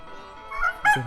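Short bursts of chicken clucking and calling in a Lao village, close by and fairly loud, rising sharply toward the end after a quiet start.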